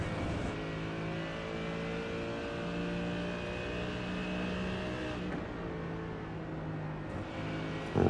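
A World Challenge race car at Silverstone screams near the top of its rev range in a steady, loud whine, then the pitch shifts as it brakes into Abbey corner.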